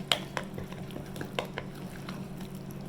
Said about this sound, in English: So just make sure you mix it up good.